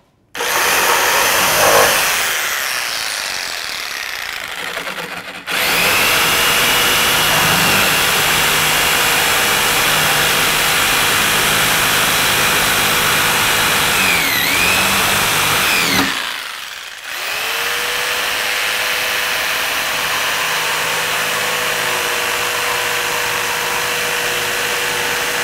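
Jigsaw (sierra de calar) cutting, running steadily for long stretches with a loud, sustained buzzing saw tone, briefly stopping and restarting twice; no talking.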